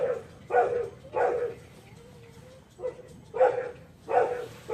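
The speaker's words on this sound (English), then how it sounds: "that dog wants to go play with the other dog" A dog barks in a garage during motorcycle engine work, five separate loud barks spaced about a second apart with quiet background between them.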